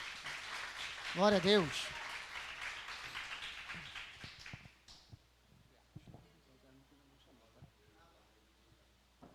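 A church congregation applauds during a service: dense, loud clapping with a voice calling out over it, then it fades after a few seconds into quiet murmurs and speech.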